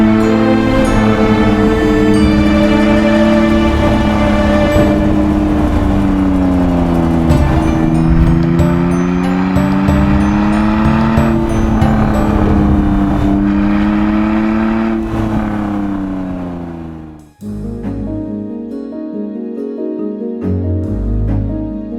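Honda NSX sports car engine revving loud and close, its pitch rising and falling in smooth sweeps for about seventeen seconds before cutting off abruptly and picking back up at a lower, steadier drone.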